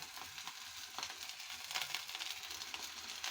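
Leaf-wrapped salted hilsa fish frying in hot mustard oil, a steady close crackling sizzle with scattered pops, faint and continuous with no voices.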